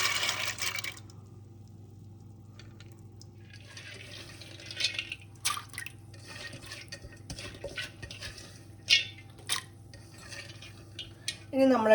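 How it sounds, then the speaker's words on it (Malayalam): Washed lentils go into a pressure cooker for Kerala sambar: quiet scattered clinks and knocks of metal, a few sharper taps and brief wet rushes, with soft gaps between them. "അത് നമുക്ക് കുക്കറിലേക്ക് ഇട്ട് കൊടുക്കാം"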